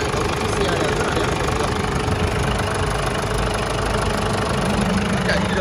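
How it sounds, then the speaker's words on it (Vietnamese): A Ford Everest diesel engine idles steadily and close by, a continuous low rumble with a faint knocking texture that holds unchanged throughout. "máy nổ rất giòn và tròn tiến luôn"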